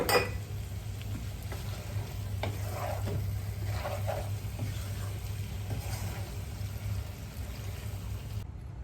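Chicken masala being stirred in a pan with a spoonful of coconut oil, a continuous sizzle under low hum with soft scraping strokes, fairly close.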